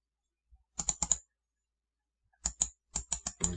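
Keys tapped on a computer keyboard while entering a value in AutoCAD: a quick burst of three clicks, a pause, then a second run of about six sharp keystrokes, close and clear with no voices.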